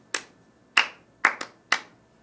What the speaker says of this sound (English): So they're going to clap a rhythm